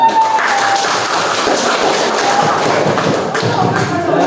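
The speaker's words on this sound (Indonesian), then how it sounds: "Beri tepuk tangan untuk kelompok 4." A classroom group bursts into brief applause for group 4, a dense patter of hand claps with a few thumps and shuffles, fairly loud and close, lasting a few seconds.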